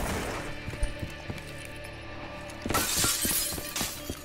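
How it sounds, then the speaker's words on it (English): Glass shatters in a multiplayer first-person shooter, a sudden bright crash of breaking panes that rings out over a steady bed of game noise and scattered distant thumps, with nobody speaking. "Why did that glass just shatter randomly?"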